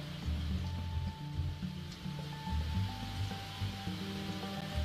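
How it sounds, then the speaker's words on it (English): Heavy rain from a storm over a shallow beach in the video game SeaBed, a steady hiss of downpour over a low, droning musical bed that continues throughout. "Heavy rain poured all over me."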